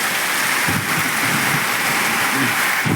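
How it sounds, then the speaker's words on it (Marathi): Heavy monsoon rain falling on farmland, a loud, dense, continuous hiss of downpour with occasional low rumbles underneath. "पाऊस चांगला चालू आहे"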